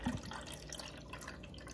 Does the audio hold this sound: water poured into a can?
yes